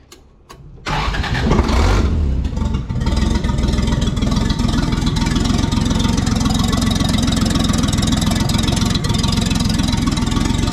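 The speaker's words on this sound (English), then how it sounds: "It's a lot easier to cold start this thing with the accelerator pedal that actually works now." A Toyota FJ45 Land Cruiser with open manifolds cold-starts after a few cranks, catching with a loud burst and settling into a raw, very loud, steady rumbling idle.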